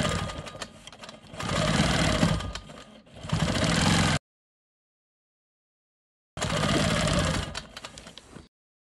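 A Quilt Maker Pro 20 quilting machine stitches straight lines across a quilt block, a steady close mechanical whir in two bursts broken by a brief dip and then a long silent pause before it starts again.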